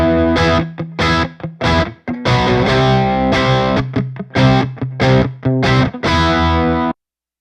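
An electric guitar runs through the Polychrome DSP Nunchuck amp sim's Green Mamba drive, loud and close, with distorted chords and riffs in choppy bursts separated by short gaps before cutting to silence.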